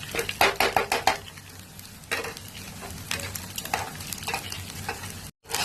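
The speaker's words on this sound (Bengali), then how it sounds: "প্রথম আমি ডিমটা ভেজে নেব" An egg fries in oil in a small wok, a steady close sizzle under a quick run of metallic spatula scrapes and clacks at the start, with more scattered stirring knocks later.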